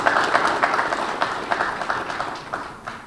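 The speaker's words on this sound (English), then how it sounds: "Give Ms. Edwards a big round of applause." An indoor audience at a government ministry retreat claps steadily in a busy patter of many hands, fading slightly toward the end. The applause is moderately loud and runs with no voices over it.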